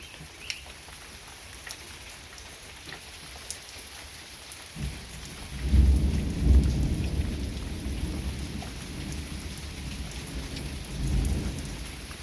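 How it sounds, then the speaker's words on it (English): Steady rain patters throughout, and midway a deep rolling rumble of thunder swells in close, fades, then returns more softly near the end. "we're just hearing the thunder from it"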